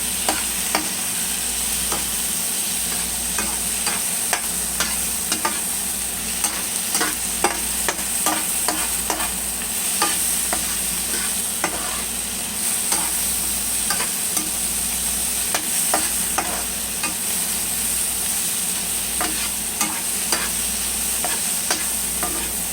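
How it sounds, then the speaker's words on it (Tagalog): Cabbage and eggs cooking in a pan are stirred with repeated scraping clicks over a steady, close sizzle that runs throughout. "buksan lang natin at haluin lang natin guys para magpantay yung lasa ng ating gulay"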